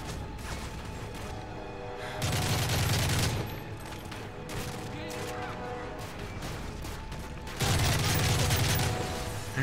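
Gunfire in Call of Duty: Modern Warfare 3, heard as sustained crackling volleys over a constant battle din, with two heavier bursts of rapid shots standing out loudly.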